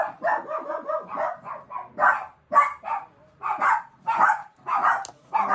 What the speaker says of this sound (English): they was barking at my neighbour.